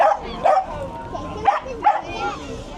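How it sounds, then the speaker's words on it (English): Several yips and barks from dogs along a seaside promenade in Llandudno, Wales, short bursts at moderate distance over open-air ambience with some chatter. "lots of dogs. So many dogs."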